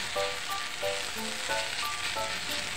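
Kimchi rice with oyster sauce sizzling in a hot pan as it is stirred, steady frying hiss with rhythmic scraping strokes of the spatula about every half second.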